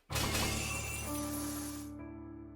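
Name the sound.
chains shattering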